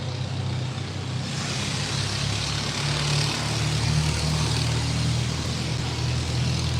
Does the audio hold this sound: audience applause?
no